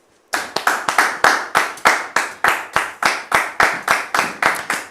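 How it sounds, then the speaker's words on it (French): Rhythmic clapping from a studio audience welcoming a guest onto a television set, loud, close and steady, with sharp even claps keeping a regular beat and no talk over them. "Merci donc de la recevoir sous vos applaudissements"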